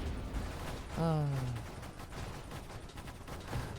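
Ship weapons firing in the Nova Drift video game, a dense rumbling stream of shots with a rising whine near the start, under a voice talking.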